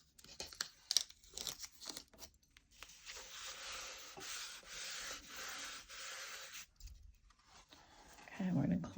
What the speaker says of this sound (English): Then you want to just carefully pull the tape off if you had used that